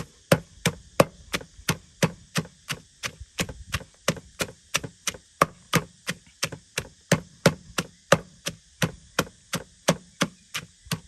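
Steady, rhythmic pounding of a pestle in a mortar making a spicy wild fruit salad, about three sharp wooden thuds per second, close and even, with no talking.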